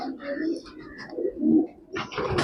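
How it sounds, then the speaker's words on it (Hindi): Soft, low pigeon cooing in short murmuring phrases, close by, with some rustling and a brighter burst near the end. "मेरे हाथ में ये कबूतर है।"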